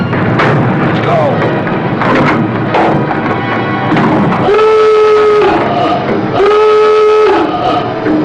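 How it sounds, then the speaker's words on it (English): Heavy gunfire from the deck gun of the submarine S-38 shelling Bawean Island, with answering enemy fire: repeated loud booms over a dense battle din, with a voice and tonal signals sounding over the firing. "S-38 shelling of Bawean Island brought answering fire from only one enemy gun."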